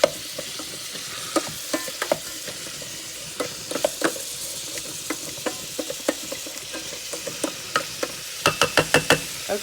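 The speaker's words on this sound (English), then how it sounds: "Then I am going to add my spices. And give that a good stir." Beans and spices stirred in a hot cooking pot make a sizzling, frying background with repeated sharp scraping and knocking strokes of a utensil, close and clear, speeding into quick successive scrapes near the end.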